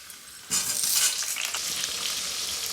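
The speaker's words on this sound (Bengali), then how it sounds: "আলুটা ভেজে নেব" Potatoes seasoned with salt and turmeric fry in hot oil in a village kitchen, starting with a sudden loud sizzle as they hit the pan, then a steady close crackle with occasional stirring.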